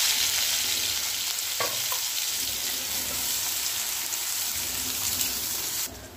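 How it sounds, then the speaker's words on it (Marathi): Finely chopped onion frying in hot oil with cumin and mustard seeds for a raw banana curry, a loud, even hiss with a few sharp crackles, easing off at the very end. "आता याच्यामध्ये बारीक चिरलेला कांदा टाकूया। थोडंसं जिरे मोहरे टाकून घ्यायचे आधी।"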